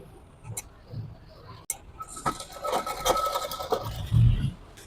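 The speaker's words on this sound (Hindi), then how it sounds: "यहाँ पे सिलाई को हम पक्का कर लेते हैं।" A sewing machine stitches a palazzo seam in a short, fast run of clattering needle strokes, close and fairly loud, with a few handling knocks and thumps before and after.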